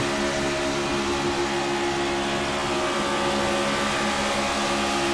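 A damaged race car engine at Daytona in a racing video game drones steadily and loudly, a continuous buzzing roar that holds without a break.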